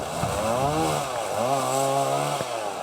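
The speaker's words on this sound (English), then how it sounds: "the unusual noise of a chainsaw." A chainsaw engine drones loudly and continuously, its pitch rising and dipping as the throttle shifts, during storm cleanup.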